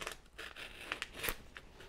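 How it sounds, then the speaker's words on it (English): Paper wrapping on a mailed CD package being torn and crinkled open, a series of short, close crackles and rips with uneven rhythm. "So let's open this up and see what we got."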